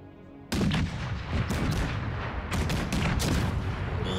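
Artillery fires in Empire Total War: a sudden heavy blast opens the sequence, followed by a ragged string of further loud cannon booms and cracks overlapping one another.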